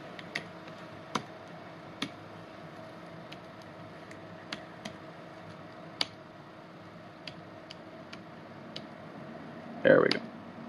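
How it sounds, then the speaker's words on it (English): Sparse, quiet keyboard clicks tapping out at irregular intervals over a steady low hum, ending with a short louder burst of noise. "Typing one-handed messes up my spelling."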